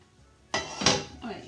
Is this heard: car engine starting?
no